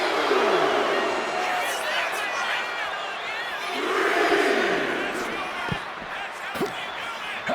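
A packed Montreal arena crowd roars and cheers for Hart in the WWE 2K26 wrestling game, a sustained loud swell of voices with chanting peaks and a few thuds, under commentary.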